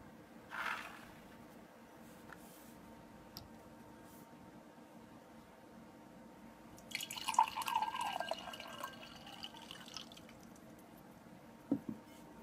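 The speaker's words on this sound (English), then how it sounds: "when pouring water into the cup, the coin disappears" Water pours into a glass cup on a tabletop, a short burst of splashing and trickling in the middle, with scattered drips and small clinks before and after in a quiet room.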